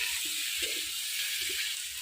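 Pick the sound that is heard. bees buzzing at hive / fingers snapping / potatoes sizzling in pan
potatoes sizzling in pan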